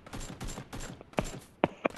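Rapid gunfire rattles in a multiplayer video game as a string of fast, muffled shots, followed by a few sharper, louder single cracks close by.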